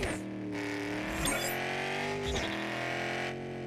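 Engine of a car in Fast & Furious Spy Racers revving steadily as it accelerates, its tone rising and dipping over a few seconds with brief bursts of game effects, heard on its own.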